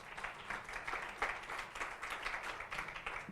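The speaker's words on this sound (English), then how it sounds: "So please give him a round of applause to bring him up." Audience claps to welcome a speaker onto the stage at a leadership talk, a fairly quiet, continuous patter of many hands throughout.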